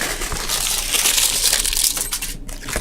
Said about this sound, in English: crinkly paper,